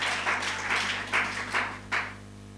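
Congregation in a church service clapping together, a steady wash of applause with several louder surges, fairly close and with no talk over it.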